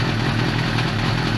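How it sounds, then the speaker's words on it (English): Engine of a rebuilt 2007 Suzuki GSX-R 750 sports motorcycle running steadily, a loud continuous close-up drone with a dense mechanical rumble and no talking. "Bike is running."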